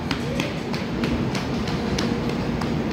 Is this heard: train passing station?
yes